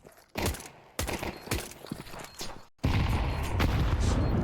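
Counter-Strike match between Astralis and Wildcard in a BLAST Premier Bounty game, with loud bursts of USP pistol gunfire and grenade blasts in rapid close succession, a brief silence, then a sustained dense roar of combat noise.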